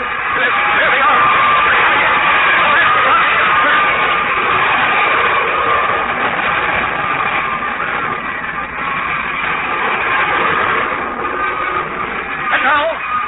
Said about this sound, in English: The Martian ship is idling over the field now, casting a huge shadow over the landscape.